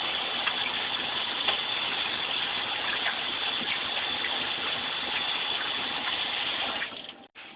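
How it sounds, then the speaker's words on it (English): Hands being washed under a running tap while making beef jerky: a loud, constant gush of water close by, with a slight shift in the flow near the end and no talking. "And remember, wash your hands again."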